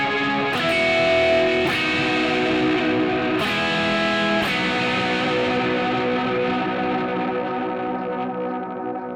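An electric guitar plays through distortion and delay from an Eventide H9 effects pedal, sustained chords struck several times and ringing out with echoing repeats that smear together and slowly fade.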